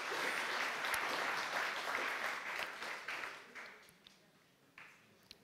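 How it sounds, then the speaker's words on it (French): Audience applause in a hall, a full burst of clapping that gradually thins and fades out into a few scattered final claps. "On peut les applaudir pour"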